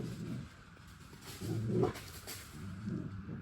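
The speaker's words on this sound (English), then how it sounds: "Hear the dogs playing." Dogs grunt and growl playfully in short bursts, fairly quiet and close, with a brief louder scuffle in the middle.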